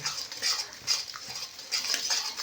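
Spoon scraping and stirring yogurt into spiced masala in a pan for a Bengali doi katla fish curry, a steady run of soft metallic scrapes and wet swishes, close and fairly quiet, with no talk.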